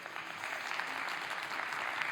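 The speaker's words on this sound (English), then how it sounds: "A round of applause to Gatis." An audience at a Baltic Sea planning forum applauds a guest artist, a continuous even rush of many clapping hands held at a steady moderate level throughout, with no one speaking.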